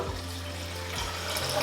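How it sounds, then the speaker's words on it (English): Cold water runs from a tap into a pan of wild blackberries, a loud, steady close-up gush whose pitch shifts as the pan fills. "top that with cold water"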